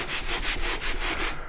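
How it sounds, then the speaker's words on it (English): A 120-grit drywall sanding block rubs back and forth over a drywall patch, about seven quick, even, raspy strokes up close, with no voices. "So I got a sanding block. This is just a drywall sanding block."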